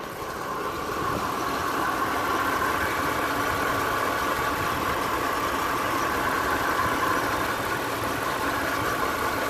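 A 2007 Ram 1500 with a 5.7L Hemi V8 idles after an engine flush, giving a steady, even hum with a faint ticking edge that holds without pause at close range.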